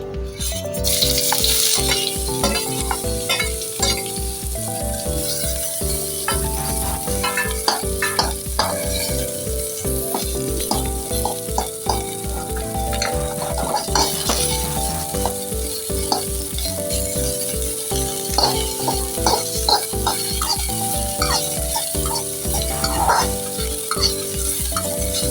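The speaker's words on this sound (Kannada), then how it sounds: "ಉಳ್ಳಾಗಡ್ಡಿ ಫ್ರೈ ಮಾಡಿ" Onion frying with curry leaves in a pan for North Karnataka kattu saaru, a steady loud sizzle with frequent stirring scrapes and clinks throughout, no voices.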